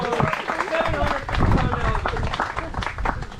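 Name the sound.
audience applause for Ballistic the alligator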